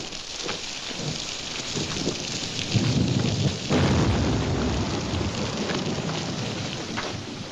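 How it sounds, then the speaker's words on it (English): Heavy rain pours steadily in a Wild West movie scene, a dense close hiss with low rumbling swells like thunder building in the middle, and no talk. "Can't see nothing in this rain."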